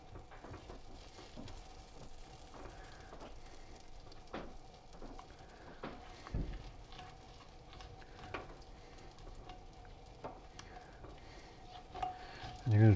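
Butter sizzles softly in a pan on the stove while cooking beef burgundy, a faint steady crackle with occasional stirring and scraping knocks.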